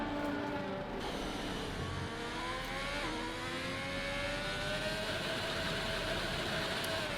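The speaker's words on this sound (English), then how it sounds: "Very, very, very high revs. Revving that engine." F1 2021 race car engine screaming at very high revs on the Singapore street circuit, a continuous loud whine with rising and shifting pitch sweeps, steady and close throughout.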